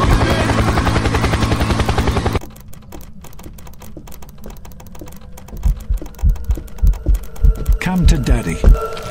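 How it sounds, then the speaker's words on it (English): A loud droning engine hum gives way to a rhythmic, thudding helicopter rotor chop in the game Phasmophobia that grows heavier, with rapid clicking alongside. "Helicopter! Helicopter!"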